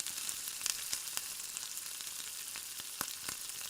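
Already-cooked new potatoes fry in a pan at a camp, a quiet, steady sizzle with occasional sharp pops and crackles, close by and heard alone.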